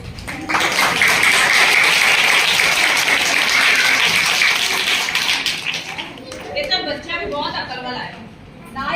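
Parents applaud at a government elementary school's final result function, a loud, sustained burst of clapping that fades after several seconds as voices take over.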